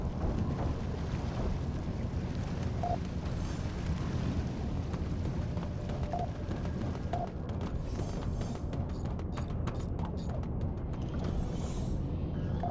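Water gushing through a breach in the roof of a submarine in the Barotrauma video game: a loud, continuous rushing roar over deep machinery rumble, with no pauses.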